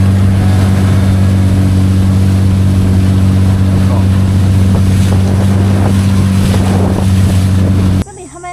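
A motorboat engine drones loudly and steadily under heavy wind buffeting and splashing water on the Kaeng Krachan Dam reservoir in Thailand, with voices faintly audible beneath the roar.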